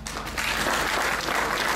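Audience applause rises to a steady, dense wash at a formal evening launch event for the mascot of the Indian Ocean Island Games, continuous and fairly loud throughout with no voices on top.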